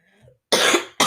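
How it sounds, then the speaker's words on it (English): Two sharp coughs close to the microphone, the first longer and the second starting right after a brief gap, following a faint murmur. "I apologize for all the coughing that's happening on this episode."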